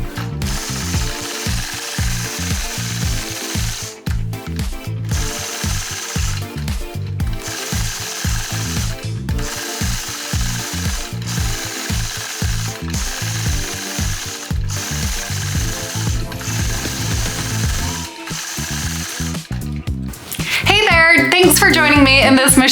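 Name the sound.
sewing machine free-motion quilting, Sway 3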